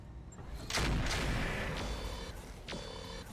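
Mech weapons firing in the RogueTech BattleTech video game, aimed at a Thunderbolt mech: a few heavy booming shots and impacts, one big blast followed by smaller reports, moderately loud with no talking.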